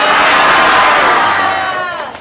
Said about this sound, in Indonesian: Mana teriakan semangatnya?